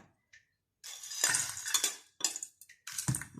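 Fried peanut and green mango salad tossed with utensils in a bowl, producing irregular bursts of clinking, scraping and rustling, close and fairly loud, separated by short silent gaps.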